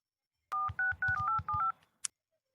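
A mobile phone keypad beeps out a quick run of eight dialing tones, even short bursts close to the ear, ending with a brief sharp click and then silence.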